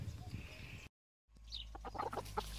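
Chickens cluck softly at close range after a brief cut to silence, their short calls scattered over a low farmyard rumble on a quinta in central Portugal.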